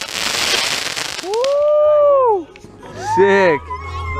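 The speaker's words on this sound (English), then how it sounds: "Bottle rocket." Bottle rocket fired during a backyard July 4th fireworks show, a crackling hiss followed by a rising and falling whistle, with excited shouting close by.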